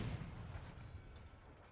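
A single Elephant cannon shot in Crossout lands as a low, heavy thump right at the start, then fades into a dull rumbling tail with no voices.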